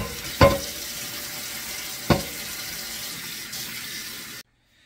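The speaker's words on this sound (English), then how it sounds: "the first thing we're gonna do to season this thing is wash with soap and water" Water runs steadily over a HexClad pan being washed with soap in a sink, a continuous splashing hiss broken by two sharp clanks of the pan, then the flow stops abruptly.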